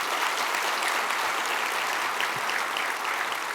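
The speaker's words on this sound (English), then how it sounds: "If I could invite a round of applause for our team at Central" Dense, sustained applause from a crowd honoring the Central Houston team, even and steady throughout with no talk breaking through.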